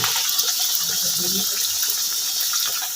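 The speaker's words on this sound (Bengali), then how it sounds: "একটা একটা করে ভাজছি।" Nan bread frying in hot oil makes a loud, dense, close sizzling hiss that stays even throughout, with faint background voice underneath.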